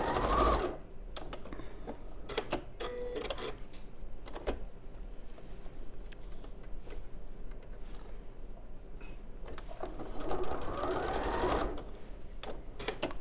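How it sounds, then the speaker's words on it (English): A sewing machine tacks a bag handle within the seam allowance, with bursts of motor whirr at the start and near the end, fabric handling clicks and light taps between, heard up close. "I'm going to just tack that handle in place within the seam allowance again"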